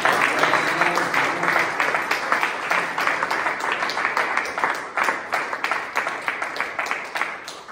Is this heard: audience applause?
yes